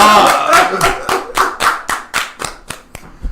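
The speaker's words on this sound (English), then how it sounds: "Applaud this. That's an achievement" About a dozen sharp, deliberate hand claps in an even rhythm, close and loud, with a voice speaking between the first few claps.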